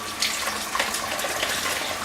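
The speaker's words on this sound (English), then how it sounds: "rinse out the bowl." Running tap water splashing into a bowl, rinsing out stuck coffee grounds, a loud continuous rushing stream close by, with faint clinks as the bowl is rinsed.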